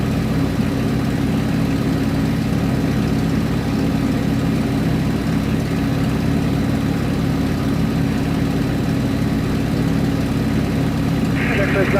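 Light aircraft piston engine running at a steady idle-like drone, loud and close, holding an even tone for the whole span.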